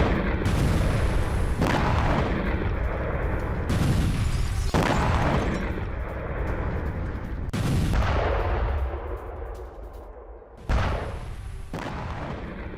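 Heavy explosions at a Russian army deployment point hit by a drone attack, a series of loud booming blasts with rumbling tails recurring every few seconds, no speech.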